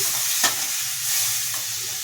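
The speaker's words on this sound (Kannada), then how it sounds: "ಎಲ್ಲವನ್ನು ಚೆನ್ನಾಗಿ ಮಿಕ್ಸ್ ಮಾಡ್ಕೊಂಡು ರೀತಿ" A spoon stirs bisi bele bath as it fries in a pan with tamarind juice, giving a steady close sizzle and hiss and one brief scrape of the spoon, with no voices.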